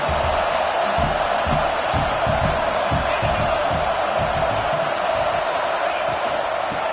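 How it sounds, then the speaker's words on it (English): A football stadium crowd roars as a steady, dense wall of cheering and shouting during a college game, loud and continuous, with a commentator's voice faintly mixed in. "this crowd is turning it up a notch"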